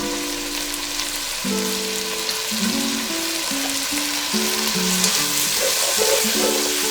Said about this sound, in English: We have added the tomatoes now. We'll saute them nicely.